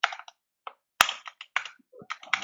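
Someone types a command on a computer keyboard, giving a handful of sharp, close key clicks in irregular quick bursts with short silent gaps between them.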